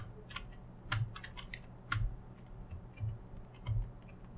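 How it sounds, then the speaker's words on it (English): Computer keyboard keys are pressed while playing Tanglewood on PC, with sharp clacks coming in small bursts at an uneven rhythm and soft low thumps between them, close and quiet. "In this case, it's the ASD button on the keyboard."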